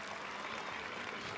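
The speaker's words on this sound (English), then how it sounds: "Once again, the applause here for Obela with just her switching lanes ability." Sustained applause from spectators at an African schools football championship semi-final, a broad steady wash of clapping filling the whole moment without pause.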